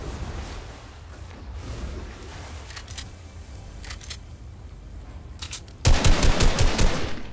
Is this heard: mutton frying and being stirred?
no